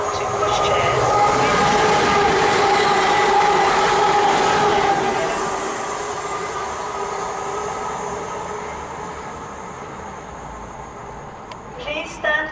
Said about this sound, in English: The next train at platform one does not stop here.